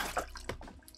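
Water briefly gushing into a manually flushed portable camping toilet, a short close burst of splashing and gurgling lasting about a second, fairly quiet and without speech.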